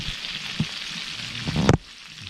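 Butter sizzling in a pan on a burner set to low heat, a soft steady crackle with a few pops and a louder burst of sizzle near the end before it quiets.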